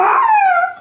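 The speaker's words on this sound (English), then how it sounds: "Those are good howls." A dog howls up close on command, one sustained, falling wail lasting under a second with clear tonal harmonics that fade out at the end.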